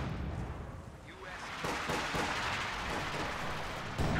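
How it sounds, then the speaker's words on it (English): A 75mm gun firing in a World War II video game, with repeated heavy artillery thumps and rumbling blasts over continuous battle noise, fairly faint overall with a sharper report at the end. "75mm gun ready for action"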